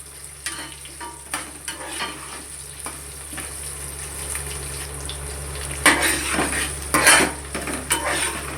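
Onions fry in a pan while being stirred, a low steady sizzle under repeated close metallic scrapes and clinks of a spoon against the pan, growing louder toward the end, with a faint background hum.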